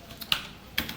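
Python code typed on a computer keyboard, with two crisp keystrokes close by over a faint room hiss.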